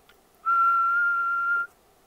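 A single steady whistled tone, clear and sustained for about a second, alone against a quiet background.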